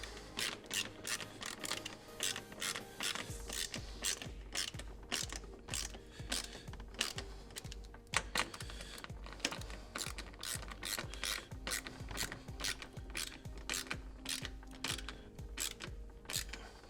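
A ratcheting tool tightens screws on a speaker kick panel during a car audio install, making rapid repeated clicks and mechanical ratchet chatter up close, with short pauses between bursts and no talk.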